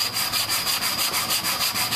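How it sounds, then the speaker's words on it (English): Steady, rhythmic back-and-forth sanding of a wooden checkerboard to remove pencil marks and glue, close and continuous with even strokes repeating about eight times over two seconds, no voices. "What you're trying to do is sand off all the pencil marks and all the glue."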